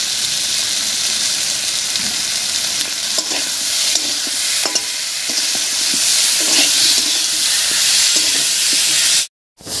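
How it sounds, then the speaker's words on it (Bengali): Potatoes seasoned with salt and turmeric sizzle steadily in a hot pan while a utensil scrapes and stirs them now and then, loud and close, with no talking. "আর এই অবস্থায় আলুগুলোকে একটু ভাজা ভাজা মতো করে নেব।"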